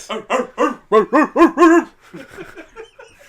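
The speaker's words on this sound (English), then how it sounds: "Just dog." Dog barking in a rapid series of about seven loud close barks, then a run of softer yips and whimpers trailing off.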